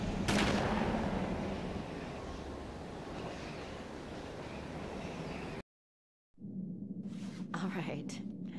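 Gunfire in a Dreamcast game running on an emulator, with a dense burst of loud, continuous shooting and rumbling blasts, a brief silent gap, then more shots and noise over a voice.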